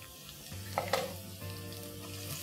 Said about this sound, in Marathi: लसूण छान फ्राय करायचा आहे.